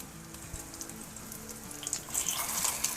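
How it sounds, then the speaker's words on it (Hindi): Shami kebabs dipped in egg fry in hot oil with a steady crackling sizzle that grows brighter and busier toward the end, close and continuous, with no voices. "अंडे में डिप करके ये कबाब हम फ्राई करेंगे"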